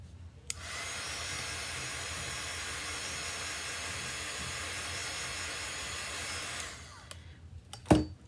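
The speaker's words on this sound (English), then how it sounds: "The dryer." A handheld dryer blows air over wet chalk paste on a transfer project, switching on with a click into a steady, moderately loud whooshing hiss for about six seconds, then shutting off, followed by brief handling noises.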